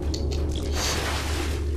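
A splash into water in the horror video game Cry of Fear, with a soft wet squish over a steady, loud low game rumble and no voice.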